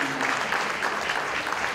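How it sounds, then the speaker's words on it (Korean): A burst of steady applause from a roomful of people at a founding general meeting after a chairman is declared elected, many hands clapping densely together for a couple of seconds. "박수 부탁드려요"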